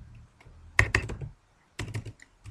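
Several quick clicks of typing on a computer keyboard, arriving in two short bursts separated by a pause, close and fairly crisp in a quiet room.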